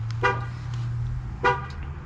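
A Ram 1500 Limited pickup giving two short horn chirps during remote start at night in a driveway, the chirps spaced about a second apart over a low steady engine hum.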